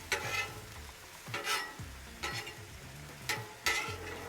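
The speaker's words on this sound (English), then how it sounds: "Give our onions and peppers another flip." Onions and peppers fry on a Blackstone griddle, a soft continuous sizzle with a series of sharp metal spatula scrapes and flips at irregular intervals, close by and with no one talking.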